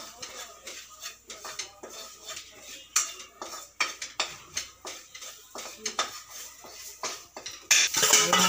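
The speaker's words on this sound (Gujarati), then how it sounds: "અને પછી એને ધીરા તાપે મળી ના જાય એમ હલાવીશું." A spoon stirs a spiced green pea kachori filling in a pan over a low flame, scraping and clinking in a steady, repeated rhythm close by, with a louder metallic rattle at the end.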